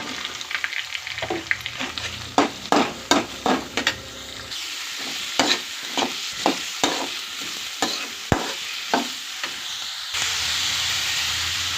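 Onions sauté in a pan for a spicy Tamil prawn thokku, a constant oily sizzle broken by repeated sharp scrapes and taps of a spoon stirring against the pan, close and fairly loud.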